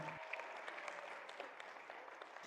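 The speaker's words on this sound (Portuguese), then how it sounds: "uma grande salva de palmas para ele" An audience claps for someone who answered correctly during a talk on Islam and Christian missionaries; the dense clapping is fairly faint and distant, steady throughout and ending abruptly near the close.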